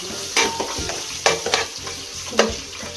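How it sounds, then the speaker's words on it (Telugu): Green chillies, onions, ginger garlic paste and mint frying in a pan for chicken mandi, a steady sizzle broken by a few louder stirring scrapes, close and alone. "అల్లం కొంచెం పుదీనా పడేసి ఫ్రై చేసుకుందాం."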